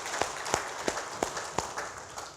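A church congregation claps in a quick, loose rhythm, roughly six distinct claps ringing out over a faint murmur of the room, moderately distant and fairly soft.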